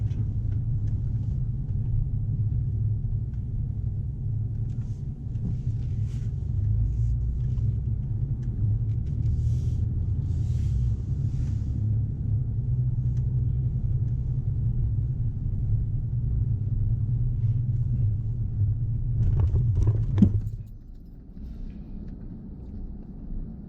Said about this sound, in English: A lot of one-way streets here, so we start driving around the circle.